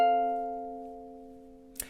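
A single ukulele chord strummed once for a lullaby, ringing and slowly fading, close and clear, with a faint brushing noise near the end.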